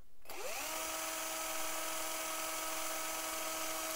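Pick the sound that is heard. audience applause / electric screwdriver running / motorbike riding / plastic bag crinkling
electric screwdriver running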